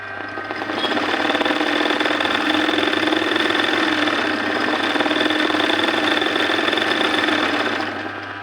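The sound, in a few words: embroidery sewing machine stitching a filling stitch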